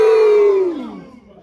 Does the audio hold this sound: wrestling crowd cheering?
yes